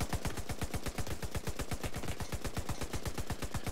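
Rapid automatic gunfire from a light machine gun in the video game The Division 2, a fast, even stream of sharp shots with no pauses, moderately loud.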